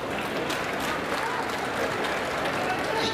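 A large audience applauds steadily at a public event during the Prime Minister's visit to Varanasi, a dense, continuous wash of clapping with voices mixed in throughout.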